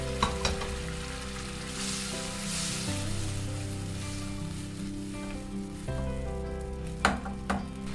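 A pan of karamani (black-eyed pea) gravy simmers and bubbles steadily, a quiet soft sizzle with occasional small pops and the clink of a utensil near the end.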